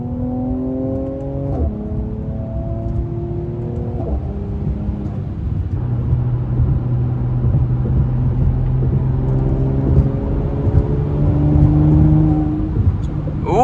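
A Mercedes-AMG C43 heard from inside during a late-night drive, its engine climbing through revs and then blipping down through several downshifts with a low burble, loud and steady throughout, with no talking.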